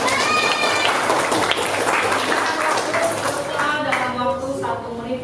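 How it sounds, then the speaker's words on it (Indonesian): Sixth-grade classroom clapping for a student who placed first in a quiz, a lively, uneven clatter of young hands with children's voices calling out over it, fading slightly toward the end. "Tepuk tangan untuk Aira Melani."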